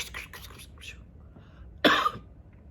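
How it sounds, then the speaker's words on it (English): A single sharp cough stands out after some faint, muffled talking in a quiet room. "That's a cough, I hope"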